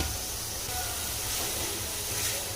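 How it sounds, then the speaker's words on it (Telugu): Tomatoes fry in a little oil for restaurant-style egg gravy, a continuous soft hiss of sizzling with low background rumble, steady and fairly faint. "కొంచెం ఆయిల్ వేసుకొని టమాటోస్ వేయించుకుందాం."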